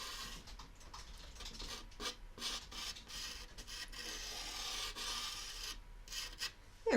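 A pencil scratches on paper while oranges are sketched, giving a close, soft, continuous rasping with quick strokes and brief pauses.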